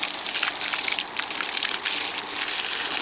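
Water sprays from a hose onto dogs outdoors in hot Arizona weather, a close, steady hissing gush with slight splashing variations and no talking.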